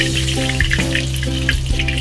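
Korean honey chicken wings fry in hot oil with a loud, dense, steady sizzle and crackle, heard up close with no voices.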